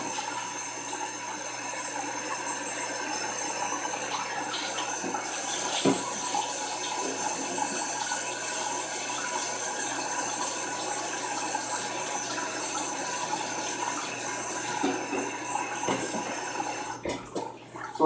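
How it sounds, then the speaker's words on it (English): Cooked vegan noodles rinsed under a cold running kitchen tap, a steady, even rush of water that flows without a break for about eighteen seconds, with a few brief clunks near the end. "You rinse them off with cold water, and it stops the cooking process."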